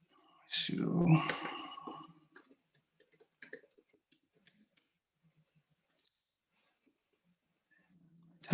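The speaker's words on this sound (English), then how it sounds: "Typing is really bad tonight." Sparse keyboard clicks tap out short bursts on a computer keyboard, faint and quiet after a spoken phrase at the start, with long near-silent gaps between strokes.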